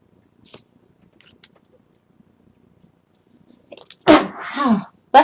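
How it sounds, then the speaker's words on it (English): A single sharp human sneeze, close and loud, preceded by a quiet stretch with a few faint rustles and a short intake of breath, then a drawn-out voiced tail. "I'm going to sneeze."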